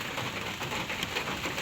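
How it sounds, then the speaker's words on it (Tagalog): Heavy rain falls in a steady, dense hiss, filling the short moment evenly without any voices. "Medyo po malakas ngayon ang ulan."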